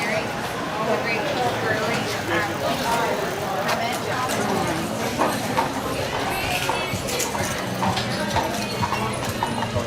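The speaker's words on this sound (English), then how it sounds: "Horse and carriage, they're very fun too." Carriage horse hooves clip-clop steadily on pavement nearby on Mackinac Island, a rhythmic clatter amid street bustle, with people talking underneath.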